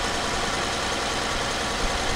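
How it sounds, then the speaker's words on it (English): The petrol engine of a Hyundai Santa Fe on its second cam belt idles steadily and evenly, close by, with a constant broadband hum and no speech. "The engine is running very sweetly."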